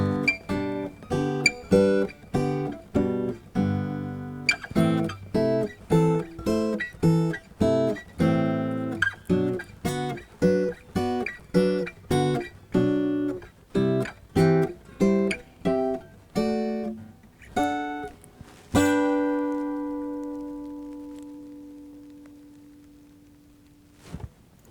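Acoustic guitar plays a steady spread-voicing chord exercise of plucked chords and notes, evenly paced, ending on a ringing chord that fades out.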